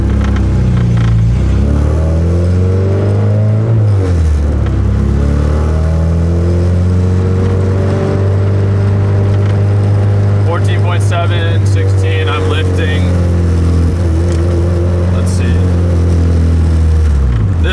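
The engine of a fully built LS-swapped VTEC Honda Civic runs loud and close, holding a steady deep drone that dips and climbs back early on, then stays even.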